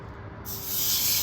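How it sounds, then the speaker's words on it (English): Ribeye steaks sizzle loudly on a hot cast iron griddle on a Weber Jumbo Joe grill, a steady bright hiss that swells after a quieter start. "Hear the sizzle."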